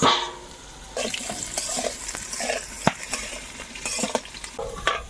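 Chicken curry being stirred and sauteed in a pan, a soft sizzle under repeated scrapes and clinks of a spoon against the pan in uneven bursts, with a sharper knock near the middle.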